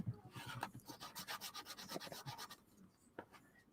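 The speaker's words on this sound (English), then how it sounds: "it's one of those sanding eraser. Takes that glue right off that edge of that chipboard." A sanding eraser rubs dried glue off the edge of a chipboard craft piece for a weekly planner holder, making rapid back-and-forth scratchy strokes, steady and close, then slowing to a few last rubs.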